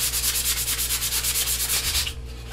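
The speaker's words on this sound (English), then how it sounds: "So all I'm going to do is I'm just going to sand it" Sandpaper rubs back and forth on the wooden neck of an acoustic guitar kit in steady, rhythmic strokes, loud and close with a low hum underneath, and no voices.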